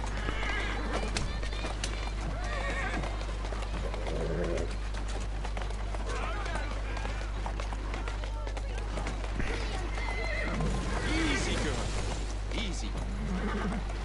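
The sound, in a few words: horse-drawn carriage in video game Assassin's Creed Syndicate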